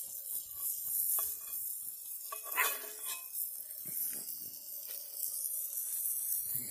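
A good-sized campfire burns at night beneath a tea kettle, giving a steady close hiss with scattered crackles and soft pops throughout.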